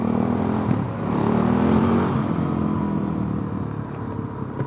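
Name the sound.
Suzuki DRZ400 motorcycle with slip-on exhaust accelerating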